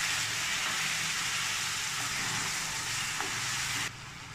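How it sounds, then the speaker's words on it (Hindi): Tomato paste sizzling in a frying pan with spices for a carrot and pea dish, a steady hissing fry at moderate level that quiets abruptly near the end. "अभी टमाटर की पेस्ट डाल देती हूँ।"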